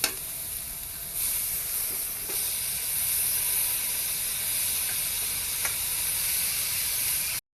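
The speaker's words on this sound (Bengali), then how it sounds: "এই মশলা কষিয়ে নিয়ে মোটাটা ঢেলে দেবো" Spice masala fries in a pan for an Indian home-cooked lunch, a loud continuous sizzle and hiss that rises after a second and holds steady, with a few faint clinks of stirring.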